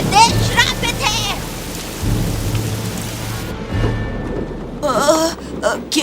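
A violent thunderstorm with heavy rain pouring down and loud rumbling, cracking thunder, layered with dramatic music and shouting voices.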